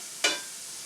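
Onion sautéing in a pan for a pierogi casserole, heard as a single brief scrape of a stir that flares over a soft background sizzle and fades within a moment.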